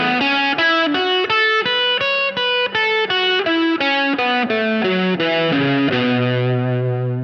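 Electric guitar with heavy distortion running up and down the pentatonic scale in box 2, a steady fast run of about twenty loud notes, with the last note ringing out at the end, no talking.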